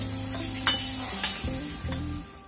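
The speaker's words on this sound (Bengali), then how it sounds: "এক বাটি জল দিয়ে দিচ্ছি" Water poured from a bowl into a pan of frying mixed vegetable curry, giving a few sharp hissing bursts over a steady low sizzle and stirring, with no talk.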